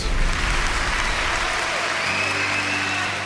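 An audience applauds at a motivational speech, a dense burst of clapping that is loud at first and then eases slightly while still going at the end, with no talk over it.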